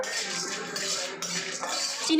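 Peanuts and chana dal frying in a pan, giving a continuous close sizzling hiss with slight crackle and faint utensil contact throughout the short stretch.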